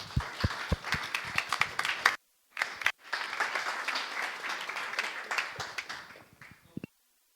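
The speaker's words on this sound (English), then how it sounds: "can we have a big round of applause for Shib, please?" Applause at a startup pitch event breaks out with loud, dense clapping, cuts off briefly for a moment of silence, then resumes steadily before fading out at the end.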